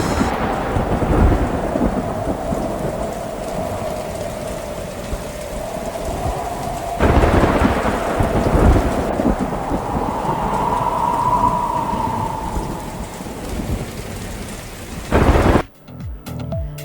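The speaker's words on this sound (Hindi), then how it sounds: "लाहौर में फिर मौसलाधार बारिश।" Heavy monsoon downpour in Lahore hisses steadily with close, loud rain, and deep rolling thunder rumbles through it several times, with no voices.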